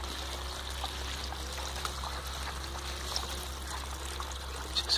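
Water pumped from a tank floods a kids' grow table, making a steady, moderately quiet trickling and pouring flow over a constant low pump hum, with no speech.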